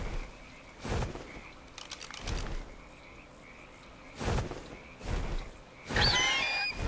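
Frog croaks in the video game Ark, a handful of separate, fairly loud calls spaced a second or two apart, the last one busier and more tonal, with no talking.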